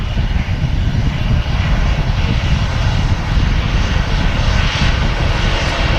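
Aer Lingus Airbus A320 in classic livery at Manchester Airport, its jet engines giving a loud, steady, broadband roar that holds constant throughout with no talk.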